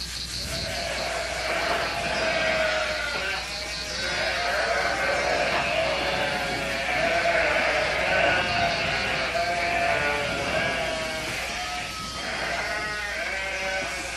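A flock of sheep bleats over and over, overlapping calls from several animals rising and falling at fairly close range for the whole stretch, with no break into quiet.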